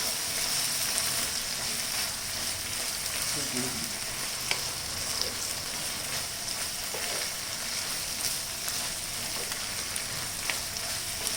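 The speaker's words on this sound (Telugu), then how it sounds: "ఇది మధ్య మధ్యలో ఇలా కలుపుకుందాం." Mutton keema curry, Telangana style, stirred in a pan on a medium flame: a steady, loud sizzle and frying hiss with faint scraping of the spoon as the minced meat is turned, no voice over it.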